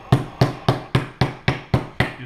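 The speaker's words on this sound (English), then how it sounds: "when they're hammering the meat they use a flat side, they put a bit of plastic over the top" A meat hammer pounds schnitzel meat with its rough end: eight sharp, evenly spaced blows landing about every third of a second, close and loud.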